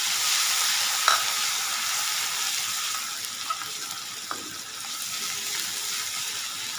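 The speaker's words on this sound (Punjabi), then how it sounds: "ਲਸਣ ਅਦਰਕ ਦੇ ਪੇਸਟ ਨੂੰ ਆਪਾਂ ਚੰਗੀ ਤਰ੍ਹਾਂ ਨਾਲ ਬ੍ਰਾਊਨ ਹੋਣ ਤੱਕ ਪਕਾਵਾਂਗੇ" Garlic-ginger paste with a pinch of asafoetida fries in a pan for Punjabi kadhi pakora. The moderate, even sizzle carries a couple of sharp clicks from stirring.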